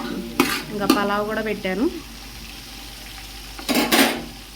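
Masala with shahjeera frying in a pan as it is stirred, with a light sizzle and scraping strokes heard under a woman's speech, then a quieter stretch before louder stirring returns.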